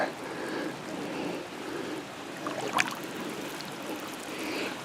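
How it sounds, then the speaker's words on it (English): Hot spring water bubbling and trickling at Valley View Hot Springs, a soft steady burble with a brief splashy pop near the end, heard alone without voices. "Hot water coming up."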